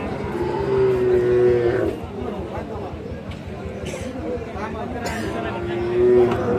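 A pregnant dairy cow moos at a cattle market, two drawn-out, close calls at the start and the end, with people's voices and crowd murmur running underneath.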